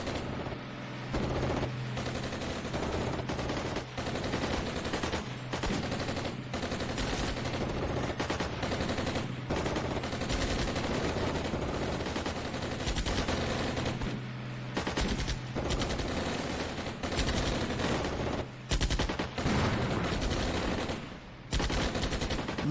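Squads in the Armored Brigade 2 war game let loose with rockets and small arms, a dense, continuous clatter of gunfire and launches with repeated sharp bursts over a steady mechanical rumble, loud and unbroken throughout.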